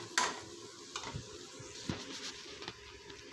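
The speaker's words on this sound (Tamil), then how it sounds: "நல்லா கிண்டி விடுங்க." Chicken biryani masala gravy stirred in a pot, faint soft sizzling under scattered scrapes and light taps of a spoon, quiet and close with no talking.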